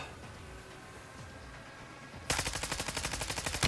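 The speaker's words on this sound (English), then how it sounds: "You're all shooting from long range" Rapid automatic gunfire in a zombie shooter video game erupts partway through after a quieter stretch, a loud, close burst of evenly spaced shots continuing to the end, with no talking.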